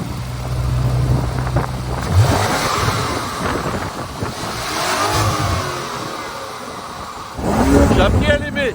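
Lamborghini Urus with Akrapovic exhaust, its engine revving loud and near in several surging bursts, the last one strongest, while people talk over it throughout.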